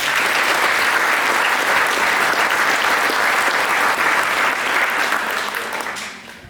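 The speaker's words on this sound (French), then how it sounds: "Eux aussi méritent des applaudissements." A spring concert audience in a hall applauds warmly and continuously, a dense, loud wash of many hands that holds steady before fading out at the end.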